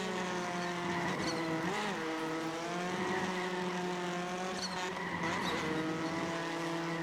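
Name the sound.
touring race car engine with blow-off valve, iRacing video game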